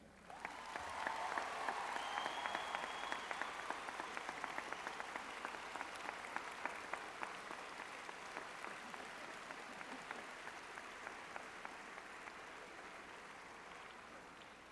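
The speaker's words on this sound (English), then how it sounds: "should nonetheless applaud their families and friends who have helped them along the way" Sustained applause fills a university commencement ceremony as graduates clap for their families, a dense, steady patter of many hands that gradually thins over about fifteen seconds, with no talk over it.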